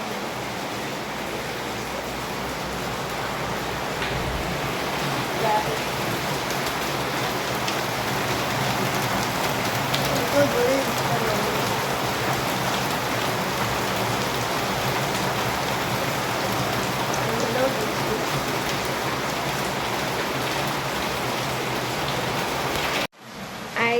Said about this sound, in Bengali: বাইরেটা দেখাচ্ছি কত জোরে বৃষ্টিটা নামলো